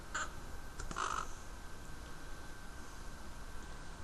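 A pet bird gives two or three short, harsh squawks early on, then falls quiet against a steady background hiss.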